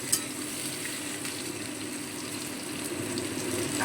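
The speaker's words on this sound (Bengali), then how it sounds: "আলু এবং কচুটা লাল করে ভেজে নেব।" Cut potatoes and taro frying in oil in a pan give off a steady, soft, even sizzle that runs unbroken throughout, fairly quiet and with no voices.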